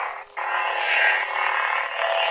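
A buzzing lightsaber hum from a Padawan Outpost Gold Beta sound board swells and sweeps in one smooth swing, sustained for about two seconds, close and fairly loud with no voices.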